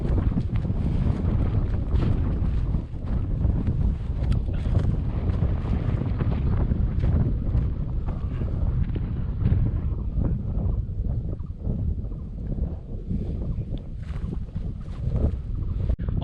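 Strong, steady wind roars across a mountain summit in Bokeo, Laos, buffeting the microphone in a continuous rumble with no break and no voices.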